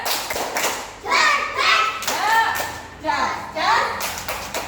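A classroom of children chants a short spirited cheer together, with thumping rhythmic hand claps mixed into the loud, close group voices in several bursts.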